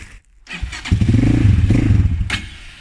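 Forte 300 motorcycle engine cranks and catches after a brief pause, settling into a loud, close, steady low idle that lasts a couple of seconds with no talking.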